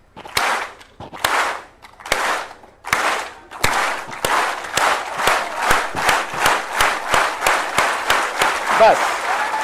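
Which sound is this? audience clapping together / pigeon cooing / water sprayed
audience clapping together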